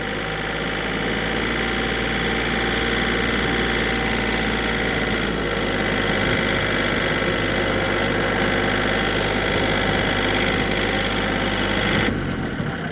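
A Kioti CK3510 tractor engine runs steadily at a constant, loud, droning pitch with a mechanical buzz and no talking, ending in a brief shift near the close.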